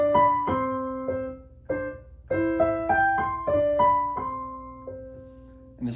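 A little Anna Magdalena notebook tune played as a piano teacher accompaniment, with clear melodic notes and supporting chords ringing and decaying one after another at an unhurried pace, close and moderately loud, with no voices.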